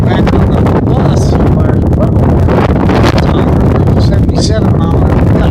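Strong gusts of wind roar across the microphone at a fort, a loud, continuous buffeting rush with surging peaks and no pause throughout.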